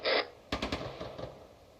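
Video-game gunfire in Arma Reforger: a sharp crack followed by a quick burst of three rapid shots and a few fainter trailing reports, close by but fairly quiet overall.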